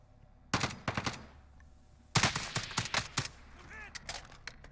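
FAL rifle fire in a battle royale video game, heard as two clusters of sharp, loud shots in quick bursts, each a rapid string of four or five reports, with a brief warbling chirp between the later shots.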